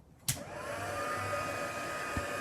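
A craft heat tool blowing steadily at close range, a continuous broad airy whoosh with a soft click as it switches on and another small bump near the end, no talk.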